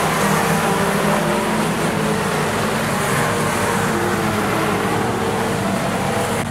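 Fender bender race cars circling Rockhampton Speedway, a dense, steady roar of engines blended with crowd-like wash, loud and continuous with no clear single pass-by.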